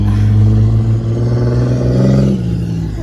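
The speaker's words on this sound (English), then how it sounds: "the pickup truck, that's really loud." A loud pickup truck engine rumbles close by, a heavy low drone that holds strong then eases slightly as the truck moves past.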